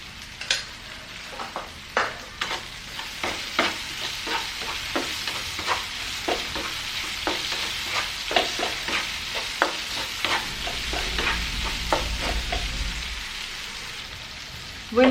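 Potatoes and canned tin fish stirred in a frying pan for a curry, steady sizzling under repeated sharp scraping strokes of a spoon, close and fairly loud, with no talking.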